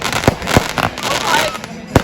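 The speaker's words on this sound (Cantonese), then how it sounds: "就係前面呢一度放緊煙花啦。" A church bonfire night fireworks display goes off about twenty metres away, with several sharp, loud bangs spaced apart amid crackling, while people talk nearby.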